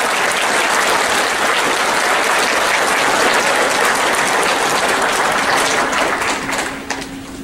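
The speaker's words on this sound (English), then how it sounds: "Let's give them another big round of applause." Loud, sustained applause from a large crowd at a tribal college graduation, dense and steady throughout before tapering slightly at the very end.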